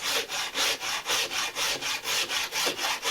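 A rasp files a wooden spindle shaft round with steady back-and-forth strokes, about a dozen rhythmic scraping passes, close and loud with no talking.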